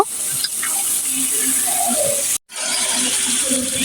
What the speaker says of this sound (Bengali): এদিকে দিয়ে নিয়েছি আমি মাংসগুলো, এখন নেড়ে চেড়ে মিশিয়ে নিব